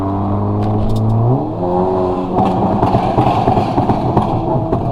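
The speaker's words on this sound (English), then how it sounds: "So let's hit a few downshifts under this overpass right here." A Stage 2 Mercedes CLA downshifts under an overpass, engine revs rising and dropping, then a run of crackling exhaust pops and burbles, loud and close.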